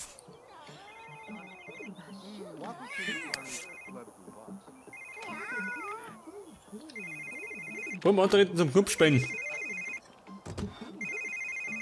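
In The Sims 3, a mobile phone rings with a repeating electronic tone in short bursts, while someone talks and mimics voices over it, with a louder clattering burst partway through.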